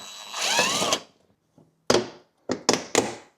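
Screwdrivers pry and scrape at a plastic fender liner on a Mercedes-Benz GLA 250. A long scraping drag is followed by several sharp clicks and snaps, close and alone.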